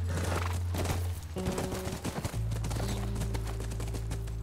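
Horse hooves clip-clopping by a ranch in the video game The Last of Us, a steady loud rhythm of hoof falls over a continuous low game soundtrack hum, with no talking.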